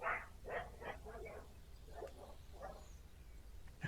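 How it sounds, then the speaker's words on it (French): A dog barks several times at a distance, a loose series of faint barks heard near an abandoned house. "Un chien."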